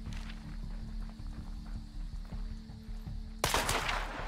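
Gunfire from the Hunt: Showdown video game comes as scattered shots over a steady game ambience, ending in a loud, close blast near the end, with no talking.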